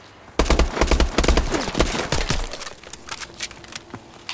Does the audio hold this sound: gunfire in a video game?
yes